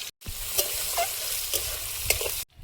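Five-spice tempering (panch phoron) crackles and sizzles in hot oil for a fish curry, making a steady close hiss with small pops in a short burst that cuts in and out abruptly.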